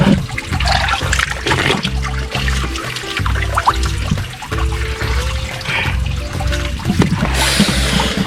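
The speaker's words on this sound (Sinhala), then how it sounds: "මේ ඔක්කොම වතුර වැටෙන්නේ කඳ උඩින් ඉඳන් එන වතුර" Cold, clear mountain water streams down from a hilltop, rushing and splashing loudly and continuously close by, with no voices.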